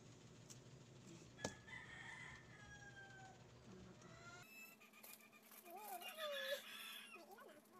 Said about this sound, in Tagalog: Excuse me lang po sa manok namin na maingay.